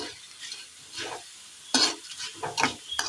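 Vermicelli frying in oil, a soft sizzle with a few sharp metal clinks of a spoon stirring in the pan, close by and without speech.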